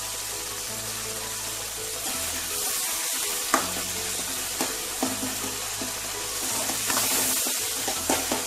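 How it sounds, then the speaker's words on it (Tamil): A steady frying sizzle comes from tomatoes softening in a pan for a yam kuzhambu, with occasional soft spoon knocks and scraping as they are stirred, close and without speech. "தக்காளி வதங்கிடுச்சு."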